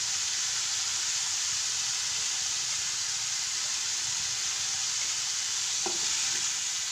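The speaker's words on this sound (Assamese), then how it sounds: "নিমখখিনি লৰাই দিম।" Salt and turmeric being stirred into tomato paste in a frying pan, giving a constant loud hiss of sizzling with a faint clink of the utensil near the end and no talking.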